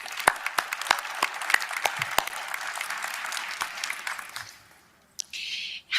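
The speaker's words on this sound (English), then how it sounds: "let's give a round of applause for the panelists" An audience at a RootsTech forum on FamilySearch claps for the panelists, a dense round of applause with sharp individual claps standing out, fading away after about four seconds before a short burst of other sound.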